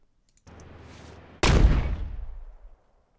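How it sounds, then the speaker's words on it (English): Designed gunshot sound effect built in Krotos Studio, a brief low rumbling lead-in followed by a loud, sharp blast whose deep, dry debris-laden tail fades over about a second. "Now, that's a gunshot."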